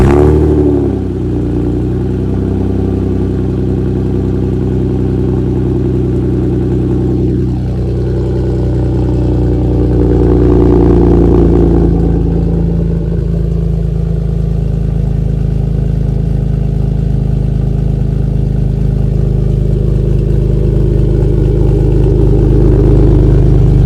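A Toyota Supra engine fitted with a new HKS exhaust runs loud and close, a deep steady idle with a couple of rising revs partway through, droning continuously for the whole stretch.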